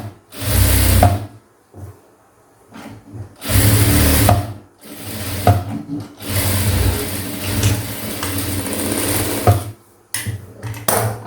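A sewing machine stitches blouse fabric in several loud, steady bursts of whirring, separated by short pauses while the cloth is repositioned.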